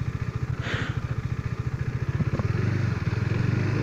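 KTM RC 390 motorcycle, 2017 model, idling and turning slowly on a test ride, its single-cylinder engine giving a steady, close, lumpy low thrum with a slight rise partway through.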